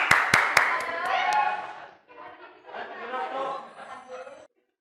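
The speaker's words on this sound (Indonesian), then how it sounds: "Ayo, bikin tepuk tangan buat teman kalian ya." Classroom children clap for their classmates, with a few sharp loud claps up front followed by scattered clapping mixed with chatter and giggles, then voices carrying on before silence.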